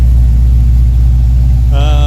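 A car engine idles loud and steady with its freshly finished, fully welded exhaust, a deep continuous rumble that stays close and constant, with a brief higher tonal whine rising near the end.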